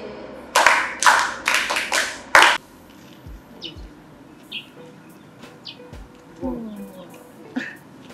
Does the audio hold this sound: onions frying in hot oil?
no